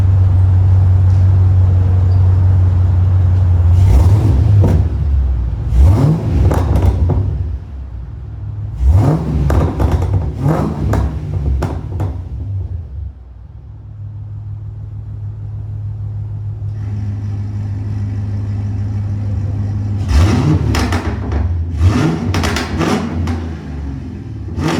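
A Cadillac CTS-V engine with its exhaust valves closed idles with a steady low rumble, then revs hard in several sharp bursts, pausing between them, close and loud.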